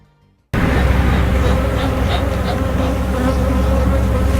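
Honey bees buzz in a dense, steady swarm, a loud close drone that starts abruptly after a brief quiet and continues evenly with no voices.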